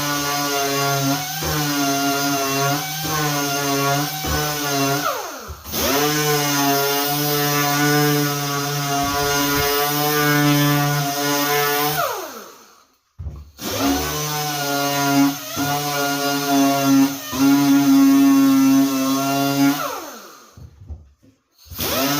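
A power sander works along the edge of a cabinet door, droning in two long, steady passes with a harmonic whine, each ending in a brief pause and starting up again.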